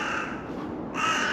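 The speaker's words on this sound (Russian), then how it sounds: "Вороны орут." Crows caw loudly and continuously in a cemetery, several harsh calls overlapping, growing louder toward the end.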